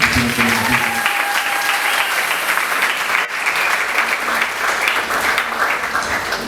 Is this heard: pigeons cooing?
no